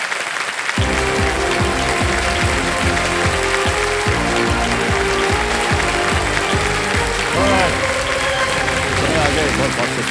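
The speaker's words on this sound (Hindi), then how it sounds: "तालियां बजती रहे देवियों सर में" A studio audience on the game show Kaun Banega Crorepati applauds steadily throughout, mixed with loud rhythmic theme music and a host's voice speaking over it.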